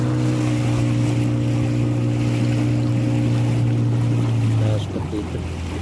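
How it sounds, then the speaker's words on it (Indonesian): A boat motor drones steadily as the boat crosses a swollen, fast-flowing river against the current after rain, a loud tonal hum over rushing water that cuts off abruptly near the end, leaving quieter water and wind noise. "Perahu yang nyebrang rata-rata bawa 3 motor 4 motor nyebrang."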